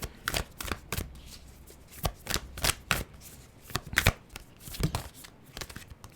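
Tarot cards are shuffled and pulled from a deck in rapid bursts of riffling and flicking, close and fairly loud, with short pauses between bursts and no talking.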